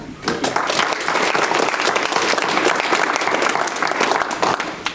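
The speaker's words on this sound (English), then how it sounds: "we got him 2 rounds of applause" Sustained audience applause at a historical society talk about Branford's Community House, steady and fairly loud clapping from a seated crowd throughout.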